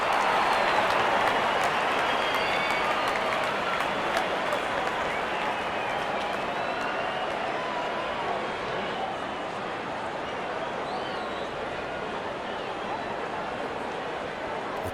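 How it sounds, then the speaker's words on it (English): Cricket crowd at a Pakistan vs Sri Lanka match applauding a boundary, a dense, steady roar of clapping and cheering that fills the whole stretch, slowly easing in level, with commentary voices underneath. "The crowd is enjoying every bit of this action."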